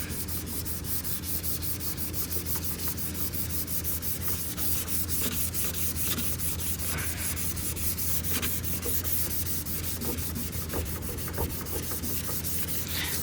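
Steady abrasive sanding on a new gel-coated fiberglass car hood, a continuous rubbing scrape over a constant low hum, close and even throughout with no talk.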